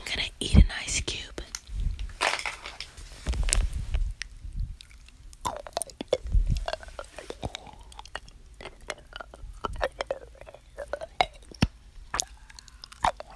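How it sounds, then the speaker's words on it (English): Ice cube bitten and chewed close to the mic in a whispered setting, with wet crunching and mouth sounds in short bursts between soft whispering. "Now I'm gonna eat an ice cube."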